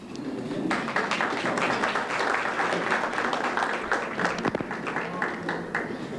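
Applause greets a city mayor at a business awards event: a sustained, fairly loud round of clapping from a gathered crowd, dense and even throughout, with a few sharper individual claps standing out.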